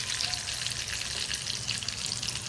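Curry leaves spluttering in hot oil as a tempering over browned garlic for tomato chutney, a dense crackling sizzle with rapid pops, steady and close.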